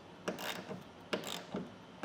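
Clicking ratchet strokes from clamps being cinched down on a TruXedo TruXport soft roll-up tonneau cover on a pickup bed, three or four sharp close ticks in an uneven rhythm with no talking.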